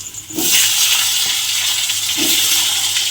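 Potatoes drop into hot oil and set off a loud, steady, hissing sizzle that starts abruptly and continues without a break. No one speaks.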